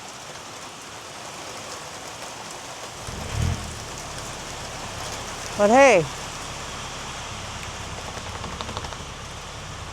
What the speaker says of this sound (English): If it's not snowing, it's raining.